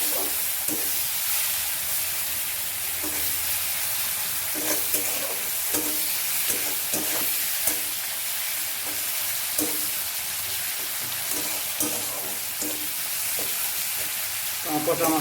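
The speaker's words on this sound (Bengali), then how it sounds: "এখন আমি এটার মধ্যে পচা মাছটা দিয়ে দিচ্ছি।" Rotten fish hits hot oil in a pan of fried onion and garlic, giving a loud, continuous sizzle and crackle with frequent stirring scrapes throughout.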